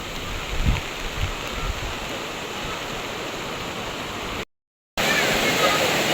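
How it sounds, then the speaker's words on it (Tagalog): Rain falls steadily in a village, a constant close hiss of drops that briefly cuts out, then resumes, with faint voices under it. "Napatak na nga lang po ngayon ang ulan dito."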